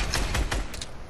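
Rapid gunfire in the Fortnite video game, with a quick series of sharp, close shots in a fast irregular rhythm, loud and alone.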